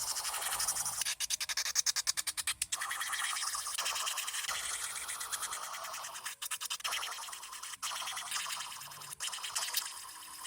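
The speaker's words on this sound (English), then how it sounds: "file over the surface of the nails and just remove the shine from the nail tips" A file rubs over the surface of polygel nail tips to remove their shine, giving close, repeated rhythmic scratching strokes in quick bursts separated by brief pauses.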